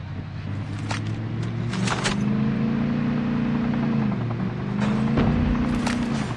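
An ATV engine in the Call of Duty Mobile game, a steady droning rumble with slight pitch rises as it drives, heard alongside sharp in-game gunfire cracks.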